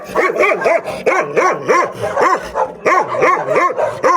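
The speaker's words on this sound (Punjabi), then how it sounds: "ਇਹ ਮੈਨੂੰ ਭੌਂਕ ਰਿਹਾ ਤੇ ਸਾਰੇ ਜਾਨਵਰ ਦੇਖ ਲਓ ਇਹਨੂੰ ਸ਼ੁਰੂ ਹੋ ਗਏ" A Gull Terrier barks loudly and close by in a rapid, rhythmic string of about a dozen sharp barks with brief gaps, no talking over it.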